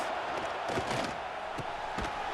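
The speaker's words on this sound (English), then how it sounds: "This crowd trying to make life miserable for this offense." A football stadium crowd at a game against Georgia Southern roars in a sustained wall of cheering and yelling, loud and continuous, with a few sharper shouts standing out.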